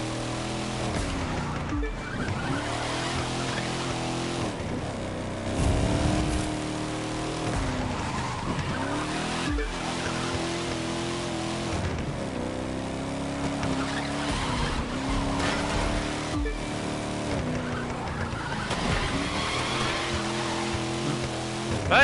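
A muscle car in the racing game The Crew 2 drives hard, its engine droning and shifting through repeated revving swells while the tyres squeal and skid through turns, steady and loud with no talk.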